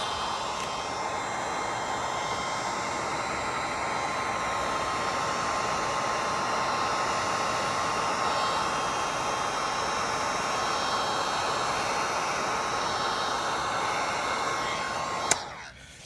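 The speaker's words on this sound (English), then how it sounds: "We're gonna grab our heat gun." A heat gun blows hot air onto stucco with a steady, loud, close hiss and a thin constant whine, running unbroken before it abruptly clicks off near the end.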